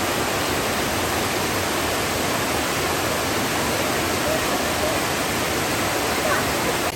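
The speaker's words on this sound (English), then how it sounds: "We're at the falls, and you can hear them there." Steady roaring rush of a waterfall in Great Smoky Mountains National Park, broad and constant like heavy noise, filling the scene with no pauses.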